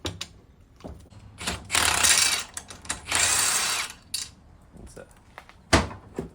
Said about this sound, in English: you keep moving the little teeth inside, one tooth at a time, until you're completely unlocked